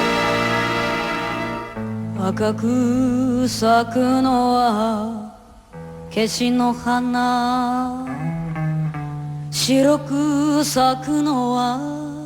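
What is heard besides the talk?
enka song excerpt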